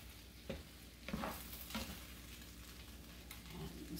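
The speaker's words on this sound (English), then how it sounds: "we're going to stir this all back together" Southern fried rice is stirred in a frying pan, giving a steady close sizzle with a few soft scraping sweeps and clinks, no voices.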